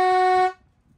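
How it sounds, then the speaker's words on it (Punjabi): A special dog horn on a modified tractor gives one short, loud, tonal blast lasting about half a second before cutting off abruptly. "ਤੂੰ ਨੀ ਸੁਣਿਆ ਉਹ ਹਾਰਨ ਵਜਾਉਣਾ"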